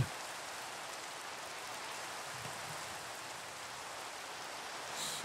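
Steady, even video game rain hiss continues throughout at moderate volume, with no voices.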